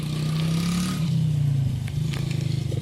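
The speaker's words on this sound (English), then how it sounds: "They get to ride the dirt bike to the barn, and I have to walk." A dirt bike engine runs close by with a loud, steady buzzing drone that rises and falls slightly as the throttle shifts, ending in a throbbing, pulsing idle.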